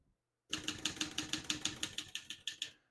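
Rapid, evenly paced keystrokes clatter on a 1971 Olivetti Lettera 32 portable typewriter, about a dozen crisp mechanical strikes in under three seconds, close and clear with no talking.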